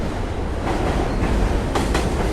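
Subway train crossing the Manhattan Bridge, a loud, close, continuous rumble and roar of wheels on track with a couple of sharp clatters near the end, no voices.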